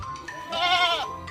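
A goat lets out a single loud, wavering bleat close by, rising and falling for about half a second over quiet background noise.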